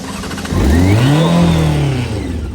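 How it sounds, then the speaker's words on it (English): A Honda CBR 600 motorcycle engine cranks and catches, a loud close rising and falling rev that swells after a short starter whir, then settles into a rough idle, alone without talk. "Try and start the CBR 600."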